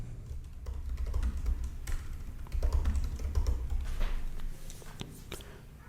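Someone types on a computer keyboard while writing SQL code, producing a steady run of quick, close plastic key clicks with uneven rhythm and no talking.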